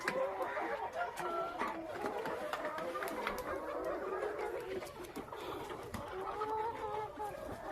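Australorp hens cluck intermittently amid a busy farmyard background, soft clucks and scratchy rustling at moderate distance, no clear speech.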